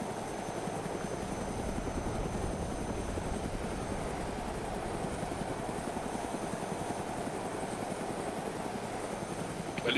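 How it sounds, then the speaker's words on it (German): A helicopter in the video game DayZ thrums steadily, its rotor beat a constant rapid chop with a droning engine, close and even throughout with no talk. "Heli."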